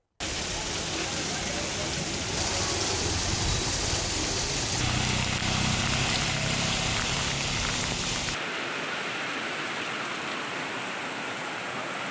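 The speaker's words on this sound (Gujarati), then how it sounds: "રાજુલા પંથકમાં અંધાધારની મેઘ સવારી આવી પહોંચી છે" Dense, steady hiss of heavy rain pouring down without pause in Rajula, Gujarat, loud and close, with no voices.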